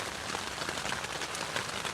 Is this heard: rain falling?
yes